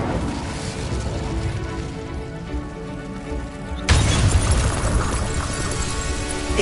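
An Incendio fire spell in Hogwarts Legacy bursts out with a sudden broadband whoosh and roar partway through, sustained and loud over a steady ambient game background, with no talk.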